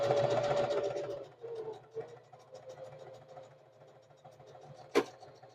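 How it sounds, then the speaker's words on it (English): A Singer 4423 heavy-duty sewing machine stitches in reverse, a close whirring buzz that is strongest at the start, then fades into quieter intermittent running with a sharp click near the end. "So long as you're holding this down, it's going to stitch in reverse, right?"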